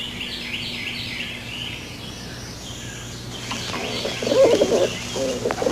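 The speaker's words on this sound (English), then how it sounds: "Good pigeon." A pigeon coos softly and repeatedly against a steady background hum, with a louder, brighter burst of sound near the end.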